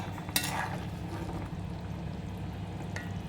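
Potatoes and fish curry cook in an uncovered pot, giving a faint, steady simmering bubble with a couple of soft clinks or stirring sounds near the start and end.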